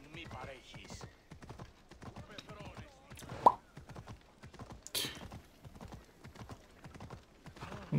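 Hooves clip-clop steadily as a horse is ridden in a video game, a mid-level patter under frequent talking and occasional whinny-like bursts.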